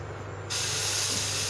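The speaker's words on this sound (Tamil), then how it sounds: "நம்ம பருப்பு தோசை சுட ஆரம்பிச்சுக்கலாம்" Lentil dosa batter hits an oiled hot iron griddle with a sudden, steady broadband sizzle that starts partway in and holds loud and close to the end, over a low stove hum.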